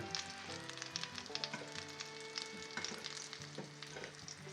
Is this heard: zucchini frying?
yes